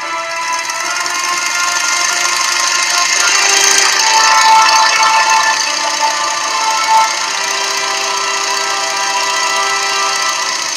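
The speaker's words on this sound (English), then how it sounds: "trim it down to where we can actually hear some really cool engine going on" A running engine with a steady, droning hum and layered tonal whine, holding at a constant loud level with slight swells midway and no speech.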